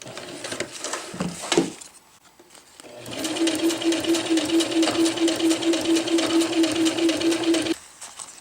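A sewing machine stitches a round zippered bag for tree straps, running in a steady fast whir for several seconds after a few brief handling sounds, close and loud with no talk.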